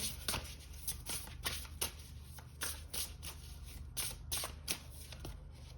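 A tarot deck shuffled for a reading, with repeated soft riffles and card slaps in an uneven rhythm, close by over a low steady hum and no talk.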